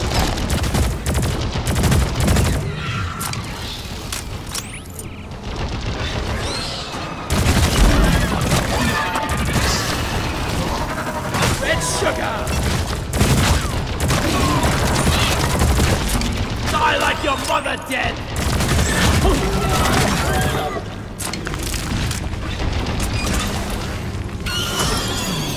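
Automated sentry turret firing in Deep Rock Galactic, with steady bursts of gunfire and explosive booms over a busy, dense background of combat noise lasting throughout.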